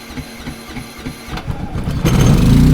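A Harbor Freight gas generator is pulled and cranks over, then its engine catches and roars up into a loud, steady running drone close by, with no one talking.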